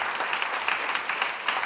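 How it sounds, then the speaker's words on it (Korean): A church congregation gives a short burst of applause, with soft scattered clapping sounding somewhat distant and uneven for under two seconds. "박수 한번 치세요"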